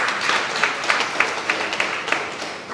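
A room at an entrepreneurship training session breaks into applause for a participant, steady dense clapping from a small crowd with slight rhythmic swells, lasting throughout.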